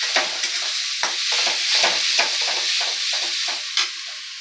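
Spices for ghugni fry in a pan with turmeric and are stirred. Close crackling sizzles come through a bright hiss, broken by a run of rhythmic scraping strokes, with no talk.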